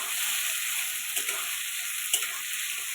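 Two bay leaves, two dried red chillies and whole garam masala frying in hot oil and ghee give a steady, dense sizzle with a few small pops and crackles, no voices.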